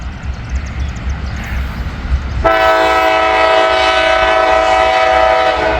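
A CSX freight train approaches a crossing near Hamilton on a rainy morning, its horn blaring in a loud, sustained chord that cuts in abruptly after quiet ambient noise and holds steady over the rumble of the passing train.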